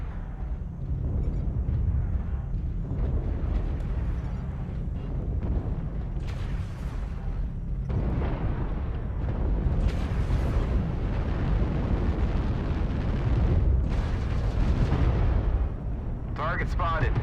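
Airstrike explosions pound a mech combat video game battlefield, with repeated heavy booms and a rolling low rumble running steadily throughout, and a voice briefly heard near the end.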